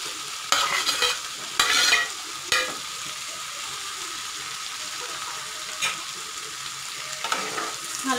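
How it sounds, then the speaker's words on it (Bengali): Potato and parwal, already fried, are stirred into cooked spice paste for a fish curry, with a steady soft sizzle broken by a few sharp spatula scrapes near the start and fainter ones later. "ভালো করে নেড়ে নেবো মশলার সাথে, আলু পটলগুলো মিক্স করে নেব।"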